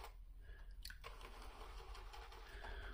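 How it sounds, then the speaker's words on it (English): Shaving brush whipping Taylor of Old Bond Street soap into lather in a bowl, giving soft wet squishing and swishing strokes, quiet and close, with no talk. "Needs to be a shiny lather."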